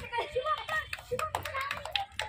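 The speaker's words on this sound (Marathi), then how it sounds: "बाकीच्यांनी टाळ्या वाजवा." Schoolchildren in a classroom activity clap their hands in quick, uneven bursts of nearby claps, mixed with children's voices and a teacher talking.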